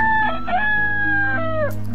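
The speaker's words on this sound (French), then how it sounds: "Le coq qui se réveille comme tous les matins." A rooster in the Towns video game gives one loud, close cock-a-doodle-doo crow, a drawn-out call that rises and falls over a low steady hum.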